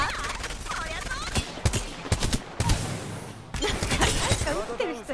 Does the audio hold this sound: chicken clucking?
no